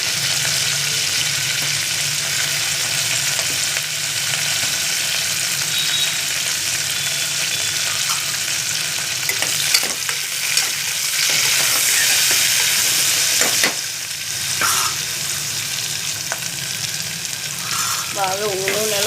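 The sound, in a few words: onions frying in oil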